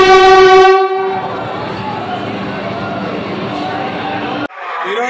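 Vande Bharat Express on the Secunderabad–Visakhapatnam route at Samalkot station, sounding a loud sustained horn blast that gives way to steady rumbling train noise, ending with an abrupt cut.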